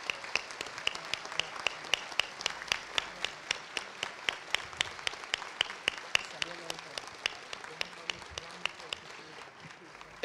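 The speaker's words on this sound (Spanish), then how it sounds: "Fuerte el aplauso para ellos." Applause fills a cathedral during a Mass for the 50th Marcha de la Esperanza, a steady patter of many hands clapping for about ten seconds with rhythmic, reverberant claps and a voice faintly underneath.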